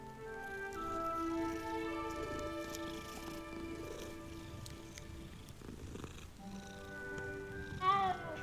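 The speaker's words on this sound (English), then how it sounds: "Ah, kitty cat." A cat in the video game Hogwarts Legacy purrs softly and continuously, a low rumbling hum against a light ambient background, with a faint brief chirp near the end.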